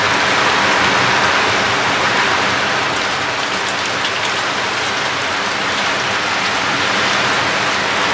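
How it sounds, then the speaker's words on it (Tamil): Steady rain falls over a garden in Kaithady, a dense, even hiss of drops on surfaces that holds constant throughout, with no voices. "திரும்பவும் இந்த இடத்த மழை வந்துடுது."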